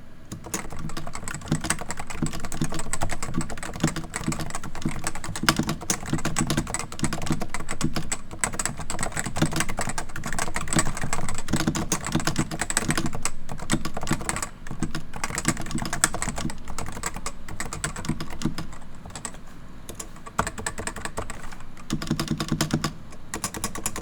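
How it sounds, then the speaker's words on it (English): Continuous, fast typing on a non-silenced Topre CM Novatouch TKL tenkeyless keyboard, its rubber-dome keys giving a steady stream of close, sharp clacks and thocks with no pauses and no one speaking. "This is me typing on the non-silenced Topre CM Novatouch TKL."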